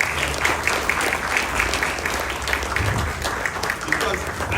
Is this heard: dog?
no